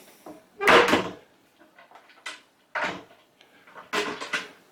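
Wooden drawers in a cruise ship grand suite slide open and shut several times, each with a close, sharp thump and rattle separated by short quiet gaps.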